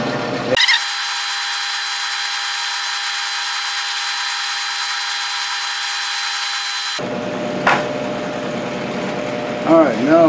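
A machine tool grinds steadily with a high, even whine while cutting slots in metal, then stops; afterward a voice speaks briefly over faint workshop clatter.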